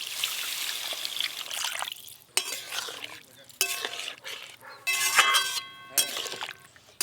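Water is poured into a pan of curry with elephant foot yam and spices. It trickles and splashes while utensils clink and stir against the pan in bursts.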